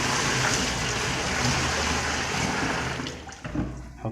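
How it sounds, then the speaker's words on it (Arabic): Water gushes steadily into a pot being filled for a test during washing machine gearbox repair, a loud continuous rushing that thins and turns more splashy toward the end. "أهي الحلة قدامنا هنا نملاها مية"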